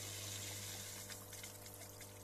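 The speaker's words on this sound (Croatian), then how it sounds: "Kad je filter uključen u struju," An Atman HF0300 hang-on aquarium filter running, with a steady low pump hum under a soft continuous wash of trickling and splashing water, close and fairly quiet.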